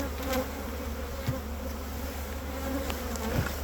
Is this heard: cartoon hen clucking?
no